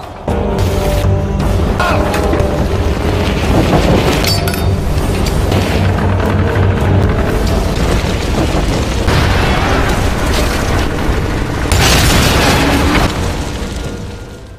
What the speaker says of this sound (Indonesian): Biarkan meledak dengan bajak laut yang mati masih di kapal.